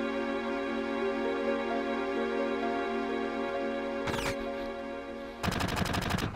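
Bursts of gunfire in Final Fantasy VII during a train ride: a short burst near the middle, then a sustained rapid machine-gun stream at the end, over steady droning game music.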